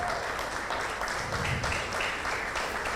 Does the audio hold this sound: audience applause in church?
yes